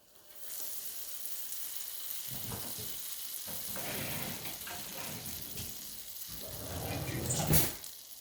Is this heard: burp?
no